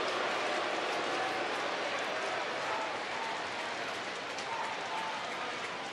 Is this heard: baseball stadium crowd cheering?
yes